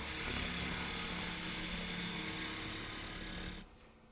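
Wood lathe roughing out a bowl gives a steady high whine with a hissing cutting noise, close and continuous, cutting off abruptly near the end.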